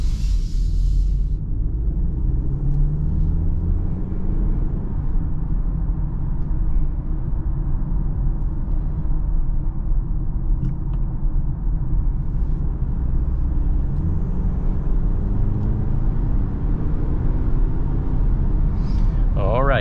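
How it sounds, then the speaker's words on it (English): Steady low road and engine rumble from inside a 2023 BMW X3 with an 8-speed automatic, cruising smoothly, with continuous tyre and drivetrain hum filling the cabin and no talking. "driving the 2023 BMW X3 drives nice and smooth"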